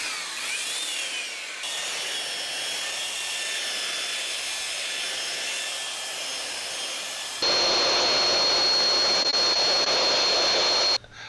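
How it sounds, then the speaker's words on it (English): A belt sander smoothing the wooden handle of a charcuterie board, a steady continuous abrasive whir with a whining motor tone that holds for about seven seconds, then grows louder and harsher near the end before cutting off. "Sanded it smooth with the belt sander."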